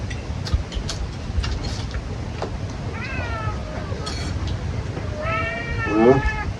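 A house cat meowing during a lunch of pork sinigang, a few short nasal meows rising and falling, the last one louder and closer, over a busy background of clatter and low murmur.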